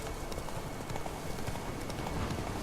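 A horse gallops across open ground in The Witcher 3, its rapid hoofbeats blending into a steady, dense rumble with constant ambient game noise and no pauses.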